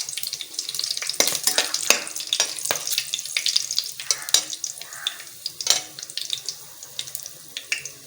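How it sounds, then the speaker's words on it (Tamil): Cinnamon, cloves and cardamom fry in hot oil for a chicken biryani, a close, lively sizzle broken by repeated sharp stirring scrapes and clatters at an uneven rhythm, with no voices. "எண்ணெய் காஞ்சிருச்சு நம்ம எடுத்து வச்சுருக்கிற பட்டை கிராம்பு ஏலக்காய் எல்லாத்தையும் போட்டாச்சு"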